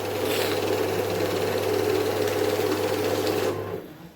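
An AI currency note counting machine running in add mode gives a fast, even mechanical whirring with a steady hum for about three and a half seconds, then stops abruptly.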